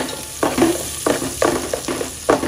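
Meat frying in a pan over a high flame, sizzling loudly and steadily with repeated bursts as it is stirred, close and clear with no voices.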